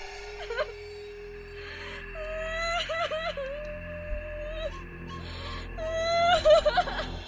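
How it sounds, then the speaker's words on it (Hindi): Girl crying, as a sound effect: drawn-out wailing sobs that rise and fall, with shuddering whimpers and catches of breath in between, fairly close and sustained across the stretch. "तभी हमें किसी लड़की के रोने की आवाज़ आई।"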